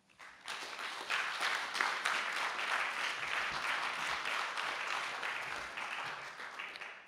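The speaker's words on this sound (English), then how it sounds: "I'd just ask for one more round of applause for all the panelists, please." An audience applauds panelists at a teachers code launch event: a dense round of clapping rises quickly, stays full and steady for several seconds, then tapers off near the end.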